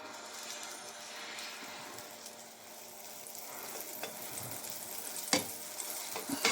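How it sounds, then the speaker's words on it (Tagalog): Milk-soaked bread for French toast fries in butter in a pan with a steady, soft sizzle, and a sharp utensil clink stands out toward the end. "Dito tayo magpuprito."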